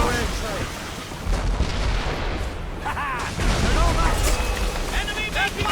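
Naval cannon fire from an enemy frigate in an Assassin's Creed Rogue sea battle, heavy booming blasts rolling over creaking ship and ocean noise, with shouted crew voices through the chaos.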